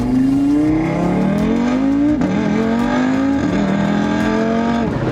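A tuned Audi RS3 race car engine revs hard and accelerates through several rising pulls with shifts between them, loud and close from outside the car, with no voices over it.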